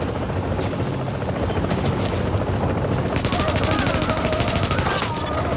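Helicopter arriving in The Division video game, a steady loud rotor drone filling the whole stretch, with rapid gunfire-like bursts and game noise layered over it.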